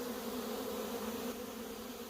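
Steady dense buzzing from a swarm of honey bees hangs close and constant, a thick insect hum with no talking.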